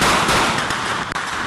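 Rapid crackling bursts of gunfire at 3 a.m. on Avenida 1 in the town centre of Quepos, a dense, continuous run of sharp cracks that stays loud for the whole stretch with only a momentary break near the end.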